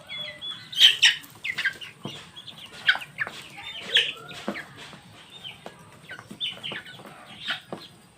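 Fayoumi chickens cluck and squawk in irregular short bursts nearby while being fed in the afternoon, a lively flock chattering over a quiet background.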